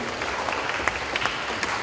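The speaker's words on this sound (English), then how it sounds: "Let's put our hands together again as a sign of applause what has happened" Audience applause at a university convocation annual general meeting, a steady patter of clapping hands that sounds somewhat distant and moderately quiet, with a few sharper claps standing out briefly.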